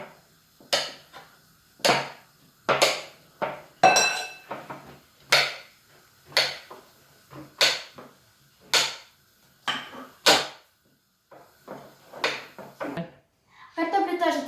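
Close, steady knife chopping spinach finely on a board for spinach soup: sharp, regular strokes about every second, with soft voices between some cuts.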